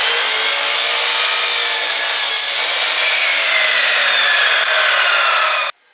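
A power miter saw slices through wood in one steady, loud, continuous cut lasting several seconds before stopping abruptly, with no talk over it.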